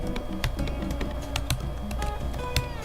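Steady, close typing on a MacBook Pro keyboard, the keys giving a muffled, low-clack patter with a few sharper strokes standing out over a faint background hum.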